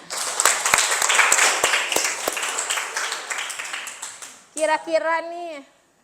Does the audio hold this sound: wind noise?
no